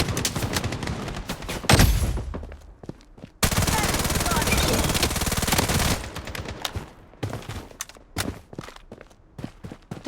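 Gunfire in the shooter video game Blood Strike, rapid automatic bursts and single shots, with a long sustained stretch of continuous fire, plus scattered footsteps and game voice callouts.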